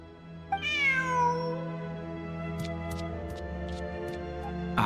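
A cat in Genshin Impact lets out one clear, rising-then-falling meow close up, over a steady droning game ambience with faint chimes afterward.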